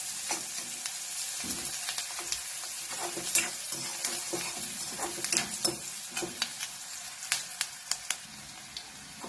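Onion roasts in oil in a pan, a soft steady sizzle broken by frequent sharp scrapes and taps of a spoon stirring.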